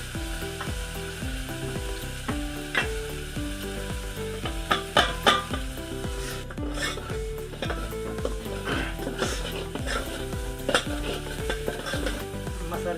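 Spice masala for mutton curry fries and sizzles in oil as it is stirred, a continuous close sizzle broken by rhythmic scraping of a spoon against the pan and occasional metallic clinks.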